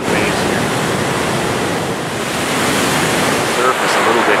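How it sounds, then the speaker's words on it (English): Hurricane-driven winds whipping up rough ocean waves and surf on the Nova Scotia coast, a constant roaring wash of breaking water mixed with gusty microphone wind noise, loud and unbroken. "this is the winds that are stirring up the waves here"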